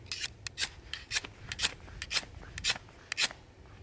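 Repeated rough scraping strokes of a knife's saw edge across a ferro rod, quick rasping bursts in an uneven rhythm, close and fairly loud.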